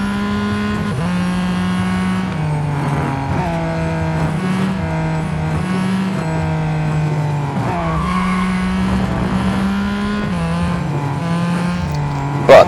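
Acura ARX-05 prototype race car in Real Racing 3 heard from the cockpit, a loud steady engine tone shifting pitch through upshifts and downshifts, with occasional tire squeal, continuous and close with no talking.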